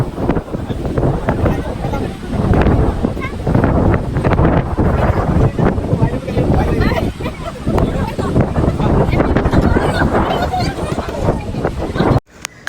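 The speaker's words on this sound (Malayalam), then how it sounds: "നല്ല കാറ്റ്." Strong wind buffets a microphone outdoors in a dense, continuous low rumble that swamps the scene, with muffled voices beneath, cutting off abruptly near the end.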